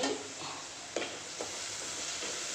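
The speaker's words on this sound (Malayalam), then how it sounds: "അപ്പോഴത്തേക്ക് ഉള്ളി നല്ലോണം വഴന്ന് വരും." Onions sauté in a pan for a mushroom curry, giving a quiet, even sizzle with a couple of faint stirring scrapes.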